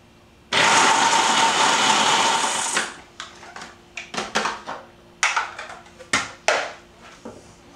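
A food processor purees garlic for Lebanese toum: a loud, steady whirring run of about two seconds, then a string of short, sharp pulses with pauses between them.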